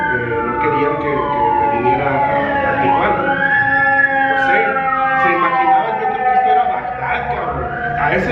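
Several emergency sirens pass along a street in Tijuana, loud wailing tones rising and falling and overlapping one another, with people talking underneath.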